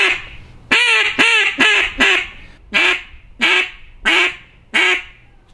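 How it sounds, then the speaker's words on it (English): A JJ Lares hybrid duck call is blown in a series of about eight loud, close, nasal quacks, first in a quick run of five, then a slower run of evenly spaced notes. "But this is a beautiful call."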